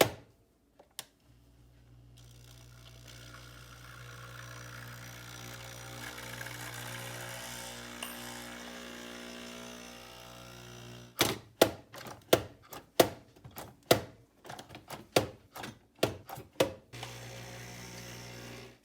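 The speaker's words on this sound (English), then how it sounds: "So we have our Espresso machine set up." A capsule espresso machine hums and buzzes steadily as it pumps and brews, then gives way to a run of sharp, rhythmic clicks and knocks near the end, all close and without voices.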